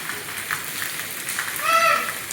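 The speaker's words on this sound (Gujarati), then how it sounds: "અમારે તો અત્યારે વરસાદ ફૂલ ચાલુ છે" Steady rain hiss fills the clip, a broad even wash of drops with a slight swell near the end, no voices.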